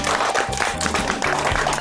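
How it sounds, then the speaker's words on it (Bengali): An audience at a home cook-challenge prize giving claps together, a short burst of steady applause with a faint low hum underneath and no speech. "সবাই একটু হাততালি দেবেন।"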